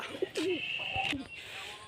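Racing pigeons cooing close by in short warbling calls, with a steady faint background hum.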